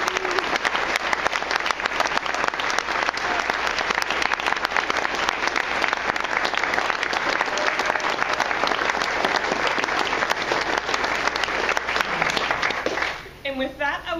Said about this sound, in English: everyone to give them a big round of applause